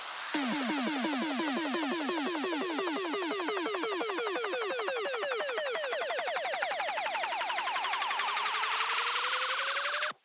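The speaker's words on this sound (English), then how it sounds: "Then bunch of downlifters, uplifters and risers." Layered sweeping effects for a melodic drum and bass track: risers, uplifters and downlifters glide with fast pulsing ripples, pitch bending steadily up and down over about ten seconds, loud and continuous before cutting off sharply.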